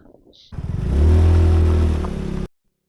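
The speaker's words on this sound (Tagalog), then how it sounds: "Sorry, hindi makakahon yung motor ko." A motorcycle engine straining up a very steep mountain road near Mount Timbak in the Cordillera, loud and close, with a low, labored drone that builds, holds and then cuts off abruptly.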